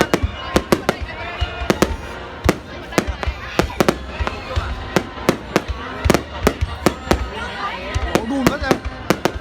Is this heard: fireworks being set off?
yes